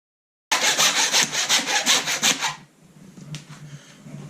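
A hacksaw cuts through deer bone while a deer is quartered, giving about ten quick, loud, rhythmic back-and-forth rasping strokes close up, then stopping into quieter handling noise.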